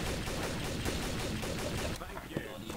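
Gunfire rattles in Trouble in Terrorist Town, a dense run of rapid, close shots lasting about two seconds before easing off into a few scattered sounds.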